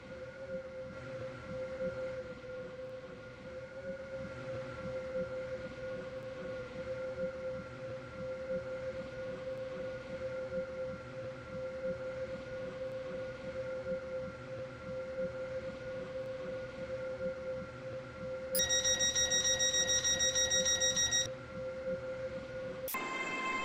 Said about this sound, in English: This train is for Stepford Central.